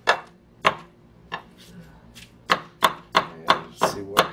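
Canned scrambled eggs are chopped with a knife on a board: about ten crisp, close strikes, irregular at first and then quickening into a steady rhythm.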